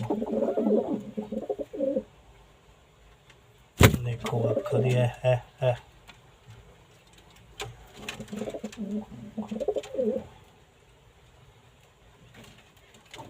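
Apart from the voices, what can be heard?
pigeon cooing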